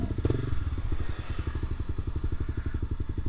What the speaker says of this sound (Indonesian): Hal yang paling enak dari 250 cc satu silinder adalah suaranya. Mari kita coba.